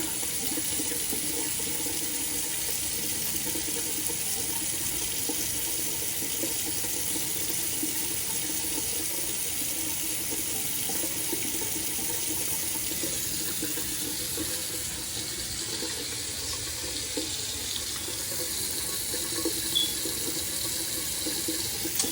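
Hot water runs from a faucet in a house, a steady, even gush of flowing water that holds at the same level throughout with no break and no voices.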